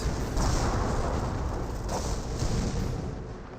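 Dense, continuous rumble of artillery shells bursting in a Company of Heroes battle, a steady wash of overlapping booms with a few heavier swells, fading slightly at the end.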